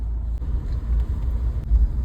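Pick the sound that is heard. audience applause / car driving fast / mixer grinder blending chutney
car driving fast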